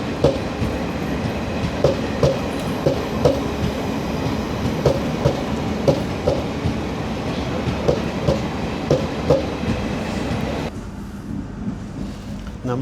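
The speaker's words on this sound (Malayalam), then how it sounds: "ഇതാണ് ദാദർ സാവന്ത്വാടി റോഡ് തുത്താരി എക്സ്പ്രസ്." The Dadar Sawantwadi Road Tutari Express passing close by on Indian railway tracks, a loud rumble with rhythmic clickety-clack of wheels over rail joints at regular intervals, ending abruptly as the last coach clears.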